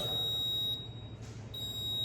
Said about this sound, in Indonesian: Ini suara buzzer ketika di bawah 300 sampai 200.